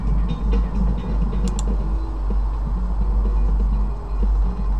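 A passing train rumbles steadily with deep low-end roar and faint rhythmic wheel clatter, moderately loud and continuous, with no talk over it.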